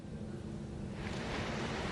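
Rushing floodwater roars as a dense, continuous wash of noise, growing slightly louder and brighter partway through, with no voices.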